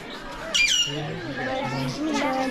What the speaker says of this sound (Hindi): और ये तोता मिट्ठू मिट्ठू में आया था बजरीवार अलग प्रकार के